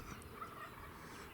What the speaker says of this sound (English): he sounds like he was gobbling up the hill too. That's a good gobble.